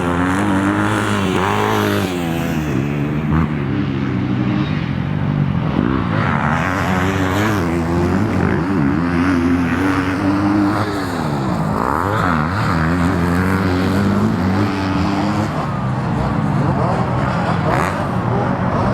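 Honda motocross motorcycles race in an MX Open round at Goulburn, with loud, continuous engine whine rising and falling as bikes rev, shift and pass close by throughout.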